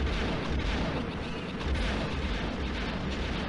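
Continuous rapid quad cannon fire from the Millennium Falcon in Star Wars Rogue Squadron, dense booming bursts layered into a steady loud barrage with no pauses.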